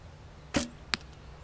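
A slightly too stiff arrow is shot from a bow during arrow tuning and strikes a hay target, giving two sharp, close thwacks less than half a second apart against a quiet background.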